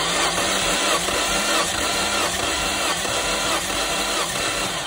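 During a compression check, the 2-litre engine of a 2002 Nissan Primera turns over on the starter with an even, pulsing mechanical churn, heard up close and alone for several seconds.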